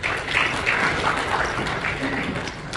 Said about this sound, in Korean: 네, 박수로 맞이하겠습니다.